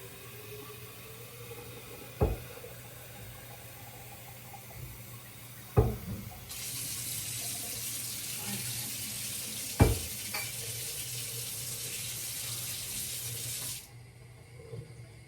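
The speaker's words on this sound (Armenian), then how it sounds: "ծաղկամանն եմ ջուր լցնում" Tap water runs steadily into a flower vase for several seconds, a broad rushing stream, with a few sharp knocks of the vase or tap before and during the fill.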